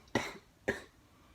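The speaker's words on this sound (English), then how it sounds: "I'm coughing like crazy." Two sharp, close coughs in quick succession, with a brief pause between them and quiet afterward.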